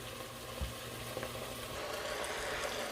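Cabbage and other vegetables sizzle steadily in a hot pan, a continuous close frying hiss with occasional stirring clatter and no talking.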